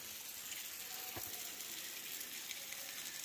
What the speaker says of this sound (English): So the waterfall is from right there